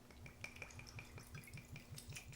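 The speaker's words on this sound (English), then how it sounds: "That's a Davy Jones pour" Premade Buffalo Trace Old Fashioned cocktail poured from a bottle, a soft rhythmic glugging trickle with steady repeated pulses, close and quiet, with no talk.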